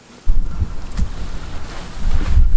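Strong gusts at a campsite during a storm buffet the microphone, a loud rumbling roar that rises and falls continuously after a quiet start.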